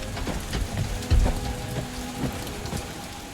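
Rain falling in the Guardians of the Galaxy video game, a steady patter on surfaces with a few heavier low thumps, alone with no voices.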